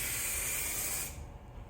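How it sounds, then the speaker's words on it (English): A single continuous hiss of headlight coating sprayed through a unidirectional nozzle during a headlight restoration, close and fairly loud for about a second before cutting off abruptly. "once we spray it, we're going to wand it"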